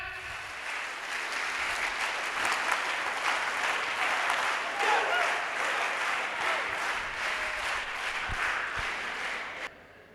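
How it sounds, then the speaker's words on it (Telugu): A group at a company family achievers reunion training session claps together in a steady, rhythmic pattern. The close, continuous applause lasts about ten seconds and then stops abruptly. "సో వెస్టీజ్ క్లాప్ తెలుసా అందరికీ కూడా?"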